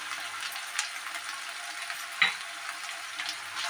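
Grated ginger and garlic frying with onion for a fish curry, a soft, steady sizzle with a few light stirring scrapes and one sharper knock.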